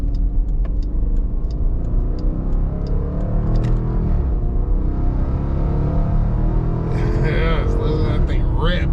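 A 2022 Dodge Durango R/T AWD accelerating hard in sport mode, a deep steady engine roar and rumble heard from inside the cabin, loud and continuous, with a voice talking over it near the end.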